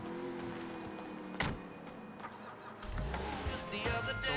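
Audi car in Grand Theft Auto V on PC, its engine humming steadily with a low rumble that swells near the end, a door-like thump partway through, with talk over it.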